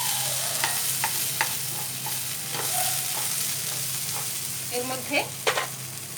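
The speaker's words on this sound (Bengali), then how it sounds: "এবার মশলাটাকে একটু কষাতে হবে।" Spice paste sautéing in a pan for niramish chal potol, with a steady sizzle and a few spoon scrapes and stirring knocks. A voice briefly speaks over it.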